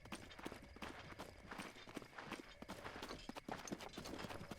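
Horse hooves clip-clopping in the video game Zelda: Breath of the Wild, a steady run of hoofbeats against a dense game soundscape that stays loud throughout, with no talking over it.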